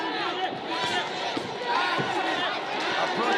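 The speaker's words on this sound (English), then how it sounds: "the crowd getting behind their champion Melvin" A boxing arena crowd roars steadily for its champion late in a title fight, a dense wall of cheering and shouts with commentary talk running over it.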